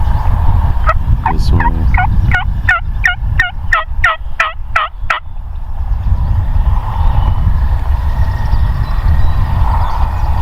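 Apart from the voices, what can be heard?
wild turkeys gobbling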